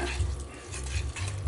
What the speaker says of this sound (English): get it all stirred up here